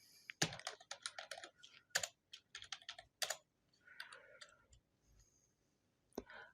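Fingers type on a computer keyboard, with quick close clusters of crisp key clicks in bursts and short pauses, fairly quiet and without talk.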